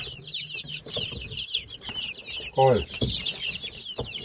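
Chickens in a poultry house with healthy week-old chicks cluck and cheep in a busy chorus, high peeping running throughout with a louder cluck midway, while a person speaks briefly.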